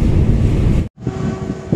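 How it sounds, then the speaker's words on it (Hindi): Strong wind buffeting the microphone beside the Welland Canal as a ship transits, a loud continuous rumbling roar with a brief dropout in the middle. "बहुत तेज हवा चलने लगी भाई"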